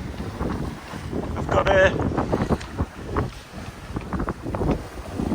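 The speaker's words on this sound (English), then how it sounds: "This lovely breeze." A sailboat, a Hustler 30, running under a lovely breeze, with steady wind rushing across the microphone and water sloshing against the hull, while someone talks briefly over it.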